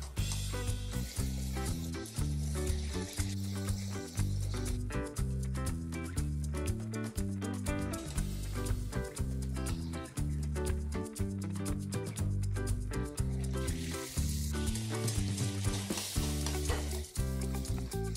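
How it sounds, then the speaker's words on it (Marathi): Puris deep-frying in very hot oil in a pan, a constant bubbling sizzle close by, mixed with a loud, rhythmic musical background throughout. "सगळ्या पुऱ्या लाटून झाल्यात आणि आता या तळून घ्यायच्या"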